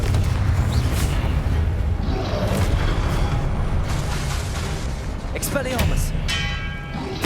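Confringo fire spell blasts in Hogwarts Legacy, a dense roar of booming impacts and rumbling explosions filling the whole stretch, with a few sharp cracks and a fading shimmer near the end.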